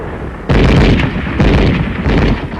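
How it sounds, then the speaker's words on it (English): Heavy gunfire in arctic combat, a machine gun covering an advance, loud sustained booming bursts that swell and fade in several waves over a couple of seconds, close and harsh with no voices. "Our machine gun covers the advance."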